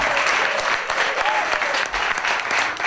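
An audience at a concert in a playhouse applauds, a dense wash of many hands clapping steadily throughout, fairly close and loud, with faint crowd murmur beneath.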